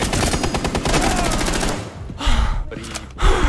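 Rapid gunfire in Rainbow Six Siege, a dense automatic burst for nearly two seconds, then a few shorter separate shots, loud and close, with a brief gasp-like voice between them.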